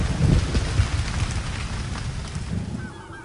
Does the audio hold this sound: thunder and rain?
yes